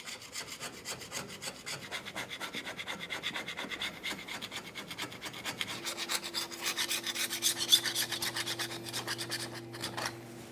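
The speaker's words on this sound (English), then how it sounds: "You could use a scraper for this and just remove as much of the excess debris along the outside portion as possible." A scraper rasps debris from the rear axle backing plate area of a 1999-2006 Chevrolet Silverado 1500, close rhythmic scratching strokes repeating steadily, with a faint hum entering partway through.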